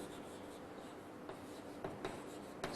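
Faint scratching of writing on a board during a Class 10 physics lesson on series circuits, a few soft strokes and taps over steady room hiss, with no voice.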